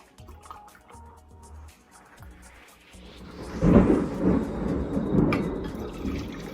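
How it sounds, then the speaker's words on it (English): A deep rumble of thunder rolls in and swells, lingering over faint dripping rain and soft background sounds. "Hopefully you heard that. That's thunder."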